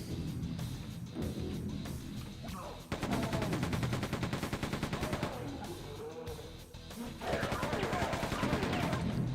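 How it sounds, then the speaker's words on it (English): Rapid machine gun fire in Quake 2 comes in dense, steady bursts with a short pause partway through, loud and close, mixed over game effects and a faint voice. "This machine gun's really good at blowing people into chunks."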